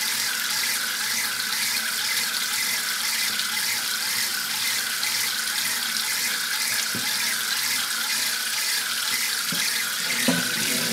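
Water pouring steadily from a tap into a kitchen sink, a continuous close hiss and splash that runs unbroken, with a few faint knocks in the background and no voices.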